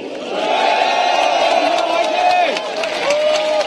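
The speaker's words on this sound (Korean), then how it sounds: "우리 국민들과 함께 민주주의를 되찾기 위해서 장외가 아닌 민심의 현장으로 나오신 민주당 의원들께 여러분 격려의 박수 한번 보내주십시오" A large outdoor crowd at a candlelight rally protesting the national intelligence service's election interference cheers and shouts in sustained, loud unison to welcome Democratic Party lawmakers, with scattered clapping beneath the voices.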